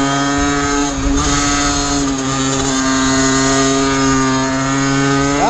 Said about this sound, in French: Là j'accélère à fond, je vais jusqu'en fond 6.